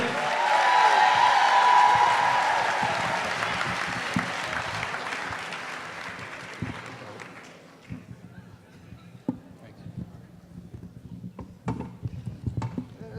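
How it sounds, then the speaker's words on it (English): An audience applauds as guests take the stage at a summer event on Martha's Vineyard, loud at first then fading by the midpoint into scattered claps, shuffling and murmurs. "Give him a round of applause, guys"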